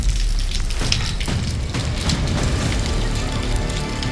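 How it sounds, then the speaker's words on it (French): Steady rain falling in Saint-Nectaire in the Auvergne volcanic region, a dense continuous hiss of drops on surfaces, close and fairly loud, with faint rattling mixed in. "Et ben, il pleut, il mouille à Saint-Nectaire."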